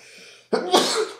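A single close sneeze during a podcast conversation, a sharp burst with a short breathy lead-in, over in about a second.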